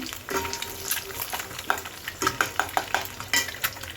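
Eggs frying in a pan for spicy egg fried rice, a close sizzle with repeated scraping and stirring taps from a utensil against the pan.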